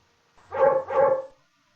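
A dog barks twice in quick succession, close and clear against silence.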